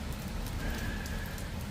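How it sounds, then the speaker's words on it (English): Steady rain falling with a dense, even patter and soft scattered drops, continuous and fairly quiet with no talking. "I love the rain and wanted to get out in it"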